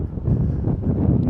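Steady low rumble of wind buffeting a microphone on a windy day while riding an Inmotion P6 electric unicycle, continuous and fairly loud, with no voices.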